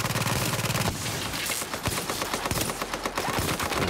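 Relentless enemy automatic gunfire in Tom Clancy's The Division, a loud rapid stream of shots that barely pauses, close and dominating, with no talk over it.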